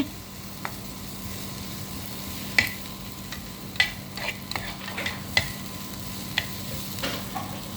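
Sliced capsicum stirred and frying in a pan for vegetable egg Maggi noodles, a steady close sizzle broken by sharp clicks and scrapes of the spatula against the pan.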